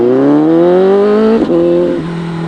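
A CFMOTO 750SRS motorcycle with catalytic converter accelerates hard in first gear, engine note rising steadily, then a brief gear shift dip and continued loud revving close by.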